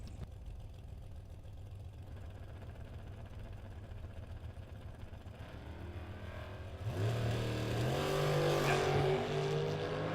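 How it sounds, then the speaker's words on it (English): Engine noise at a drag strip idles and rumbles quietly at first, then a 2008 S&W dragster out of Rockwall, Texas launches hard with a sudden loud rising roar near the end. "He's got Nick Canova in the Dragster, dial 495, first Dragster up"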